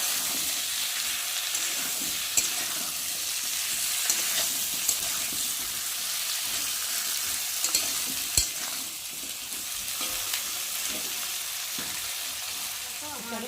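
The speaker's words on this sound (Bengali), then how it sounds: "সবজিগুলো ভাজা ভাজা হয়ে গেছে" Pointed gourd, potato and eggplant pieces frying in oil for a fish curry, a steady loud sizzle with occasional stirring clinks and scrapes throughout, no voices over it.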